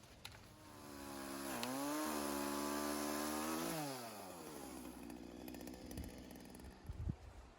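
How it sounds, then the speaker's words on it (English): A chainsaw cuts through a tibouchina trunk, the engine rising from a rough idle into a sustained high-revving cut, then dropping back to idle with woody crackles near the end; close and alone. "So let's get this part done with the chainsaw"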